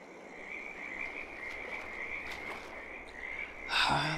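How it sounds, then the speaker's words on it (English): Frogs croak by a river in the video game Farming Simulator 22, a steady high trill running throughout at moderate level, with a brighter burst of sound near the end. "Look, do you hear the frogs?"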